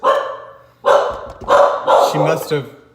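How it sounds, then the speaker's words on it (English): A dog barks indoors in a series of loud, close barks, about five in quick succession with brief pauses between them. "Oh, there's my dog. There she goes."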